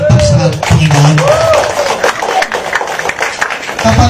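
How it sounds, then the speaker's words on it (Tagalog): Thin, scattered applause from a church congregation, rising and falling for several seconds beneath a voice tone and crowd murmur. "Ang hina ng palakpak sa Panginoon."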